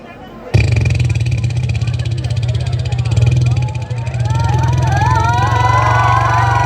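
A voice mimics a broken-down motorcycle with no cylinder pipe being kick-started, a sustained, loud, buzzing engine-like drone with sputtering changes, mixed with background chatter.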